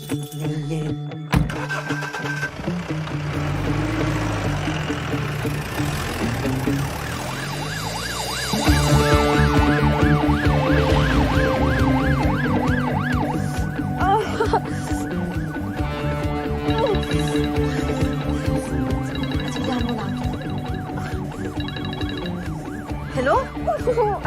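An ambulance siren wails loudly and continuously close by, its rising and falling tones sweeping over a running vehicle engine for the whole stretch.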